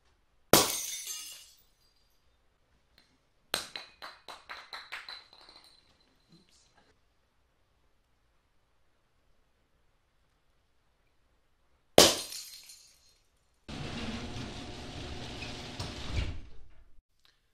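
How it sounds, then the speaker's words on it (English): Glass breaking in a binaural recording: a sharp shatter, then scattered tinkling shards, quiet, another loud crash and a longer stretch of grinding, sliding debris. "Number two is breaking glass."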